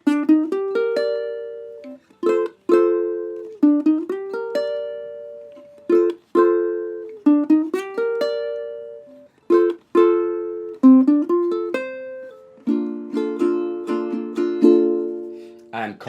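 Ukulele playing riffs from a song: clear, close plucked and strummed phrases in a repeating pattern with short pauses between, building to fuller strummed chords near the end, with no voices.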